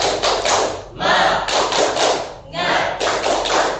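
A class claps a rhythmic spirit clap in three quick bursts of brisk, tight hand claps separated by short pauses, close and fairly loud.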